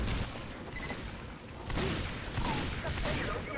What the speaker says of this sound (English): Oh, a gunfight.